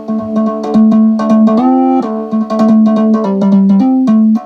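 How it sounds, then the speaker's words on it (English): Simple synthesizer notes with a bright, buzzy tone, held in short phrases that shift between a couple of pitches, loud and close with no voices. "There's one very simple synthesizer happening"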